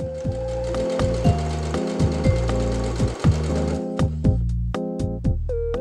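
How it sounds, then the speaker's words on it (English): A sewing machine runs steadily, stitching patchwork fabric squares with a quarter-inch seam in chain piecing. The loud, close, rhythmic mechanical whir is joined by a few sharper clicks near the end. "Then I stitched these squares together using a 1/4-inch seam allowance with right sides facing each other."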